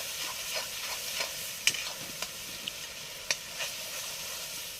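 Fenugreek leaf bhaji cooking in a pan outdoors in a field, with a steady low sizzle and faint scraping stirs, a few sharp utensil clicks over the hiss.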